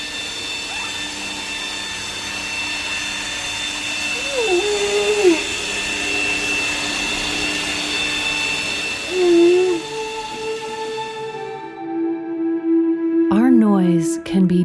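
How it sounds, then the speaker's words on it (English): A steady underwater drone with whining tones from a single outboard motorboat in a bay, while a humpback whale's low moans and sweeping calls rise and fall through the noise. "here's that same bay, with just one outboard motorboat in the water, and a humpback trying to sing."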